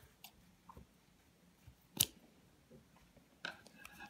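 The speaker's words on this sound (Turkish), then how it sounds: "Ve ipimizi keselim." Scissors snip through yarn after amigurumi stitching, one sharp close cut standing out among a few faint handling clicks, with no talking.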